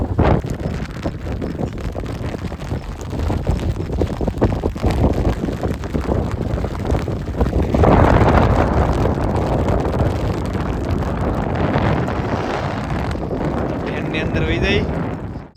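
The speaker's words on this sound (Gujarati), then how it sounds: "કારણ કે પવન એ બહુ વધારે છે." Strong wind buffets the microphone at a lakeshore campsite during a storm, a loud continuous roar that surges and swells around the eight-second mark, with voices talking over it.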